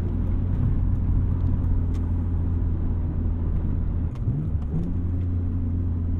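A 240-horsepower car's engine drones steadily under load during a pull, a close, even rumble with a brief shift-like dip near the end and no talking over it.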